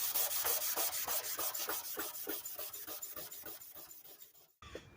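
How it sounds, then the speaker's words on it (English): A red Scotch-Brite pad scrubs a rusty metal toolbox tray in quick rhythmic strokes, rasping back and forth close up before stopping abruptly, followed by one short scrape. "Now we're just going to use this red Scotch-Brite pad and clean it up a little bit more before paint."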